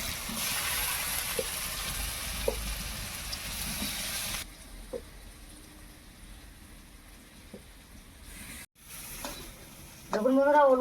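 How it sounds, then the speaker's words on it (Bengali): Taro pieces frying in a little oil in a wok give off a steady sizzle, with a few soft stirring knocks. The sizzle drops in level partway through, then a short burst of louder sound comes at the end. "এবার কড়াইয়ে সামান্য তেল দিয়ে ওলগুলোকে ভেজে নেব"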